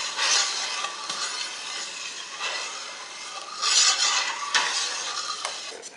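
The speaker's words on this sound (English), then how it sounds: "So we got our spoon in here, we're stirring." A spoon stirs homemade muscadine jelly in a pot, making steady close scraping sweeps that swell and fade in a back-and-forth rhythm, with no voices.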